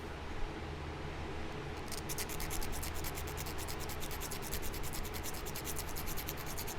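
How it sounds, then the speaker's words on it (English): Flint Scottsbluff point having its base ground, a steady close-up abrasive rasp that runs continuously, with a faster rhythmic scraping pattern emerging partway through, no voices. "Grind it. Make sure it's flat. Grind in here too."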